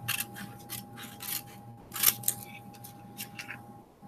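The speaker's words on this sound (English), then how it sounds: "We're going to do the same thing, cut across." Scissors snip through paper while a fold-up math study aid is cut out, a run of short, close, crisp cuts in quick rhythm with a brief louder burst midway, no talk.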